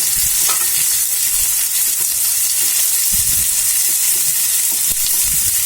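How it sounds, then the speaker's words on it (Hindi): Chopped onions and green chillies sizzle loudly in hot oil in a pan for paneer bhurji, with a constant frying hiss and occasional scraping thuds of a spoon stirring them. "इसके बाद इसमें मैं प्याज डालूंगी। इसे हम थोड़ा चला लेंगे।"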